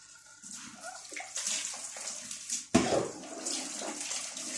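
Water running from a tap while a kitchen sink is being cleaned, a continuous splashing flow with a sharper slosh or clatter partway through, heard close and without talk.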